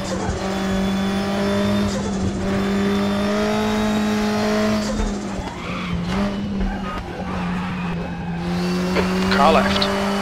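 Boxy Volvo 240T race car driven hard in the Raceroom Racing Experience game, its engine droning steadily with shifts and pitch swings while the tires squeal and skid through corners, with talk over it.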